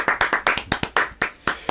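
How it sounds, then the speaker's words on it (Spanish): Hosts clap in a quick, uneven burst of about a dozen sharp hand claps, close and loud, with no talking over them. "¡Aplauso! ¡Aplauso! ¡Aplauso!"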